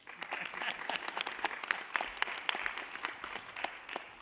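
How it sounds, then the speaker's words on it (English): Board meeting attendees at the Los Angeles County Board of Supervisors give a round of applause, a fairly close, uneven burst of many hands clapping with sharp individual claps standing out, steady for several seconds. "And let's give them a round of applause."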